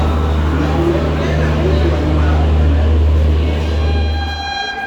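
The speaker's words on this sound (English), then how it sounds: "This is the Lokmanya Tilak Terminus Visakhapatnam Express skipping Thane station." The Lokmanya Tilak Terminus Visakhapatnam Express passes through Thane station with a loud, steady low rumble of wheels and engine, then a train horn sounds toward the end before the rumble cuts off.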